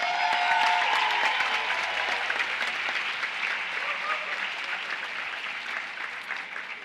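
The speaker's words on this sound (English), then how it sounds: "So again, give yourselves a round of applause." Graduates and guests at the Bloomfield College 150th commencement ceremony give a sustained round of applause, a dense wash of clapping that begins strong and slowly thins out, with a few murmuring voices underneath.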